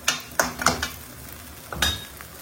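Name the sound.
stirring minced meat in a pan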